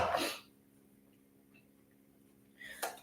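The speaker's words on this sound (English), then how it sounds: "My nose is itching and I'm sneezing to death." A single sharp sneeze bursts out at the start, followed by quiet, then a second short explosive breath or sneeze near the end.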